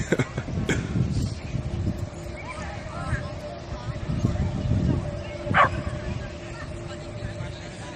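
Several dogs bark in a park, bursts of barking and yips scattered through an outdoor background with some voices and movement, fairly close.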